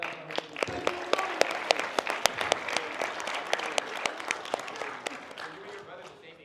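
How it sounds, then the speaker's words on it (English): Audience at an industry talk claps for a young speaker who spoke about foster care, with crisp, distinct hand claps in a lively steady round while a voice talks underneath. "Let's clap it up for him."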